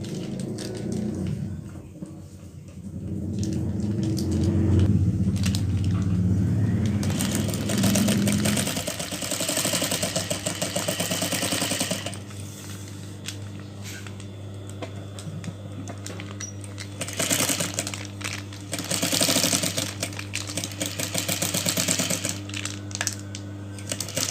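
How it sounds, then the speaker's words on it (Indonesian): Sewing machine stitching a handmade bag of recycled plastic waste, a close steady motor hum with rapid patter running continuously under faint background noise. "Sekarang kita jahit."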